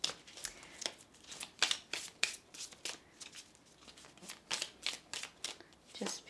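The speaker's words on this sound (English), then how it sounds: "I almost want to take 3 more tarot cards and put them underneath." Tarot cards are drawn and handled on a table during a pick-a-card reading, with quick papery flicks and soft slaps coming in an uneven series of close, crisp snaps. A person talks quietly throughout.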